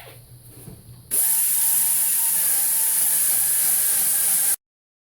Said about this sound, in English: got a 90-degree angle grinder with a carbide bit on it.